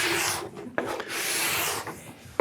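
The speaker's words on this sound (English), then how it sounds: "You'd rather spend more time scraping." A scraper drags wax off a board, dry rasping strokes in several close passes separated by short pauses.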